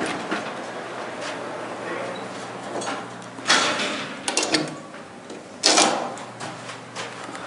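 An Otis Lexan traction elevator at the National Gallery of Art in Washington DC runs with a steady low hum and rumble, broken by a few louder clunks and door or car movement noises.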